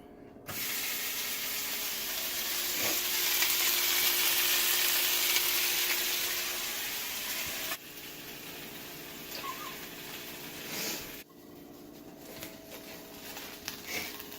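Ham slices frying in a hot pan give off a loud, steady sizzle that drops to a quieter crackle partway through, with a few faint clicks from the pan.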